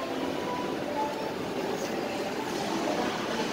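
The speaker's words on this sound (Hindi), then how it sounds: "toy train" A toy train runs inside a shopping mall, giving a steady, continuous rolling rumble with faint rail-like clatter against the busy indoor ambience, and no speech.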